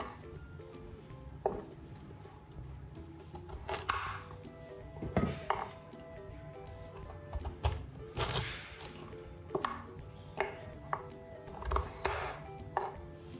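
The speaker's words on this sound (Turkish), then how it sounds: "Minik küpler halinde doğruyorum." Two large carrots are cut into small cubes on a board, a knife striking it in quick irregular chops close by against a quiet kitchen backdrop.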